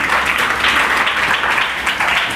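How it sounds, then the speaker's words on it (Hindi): Students in a classroom break into applause, a dense burst of many hands clapping together, loud and close, lasting a couple of seconds without voices. "शाबाश, बजाओ ताली"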